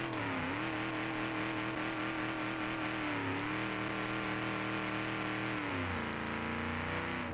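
The Zoombat model M, driven around the Automation test track in BeamNG, holds a steady engine drone. Its pitch rises and drops as it accelerates, stuck in third gear, with no talking.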